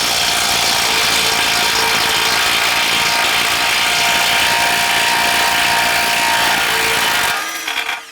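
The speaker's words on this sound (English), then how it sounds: "Using a 19mm socket," A power tool whirs loudly and continuously, driving a 19mm socket on a front upper control arm nut of a 2004-2008 Acura TL, then stops abruptly near the end.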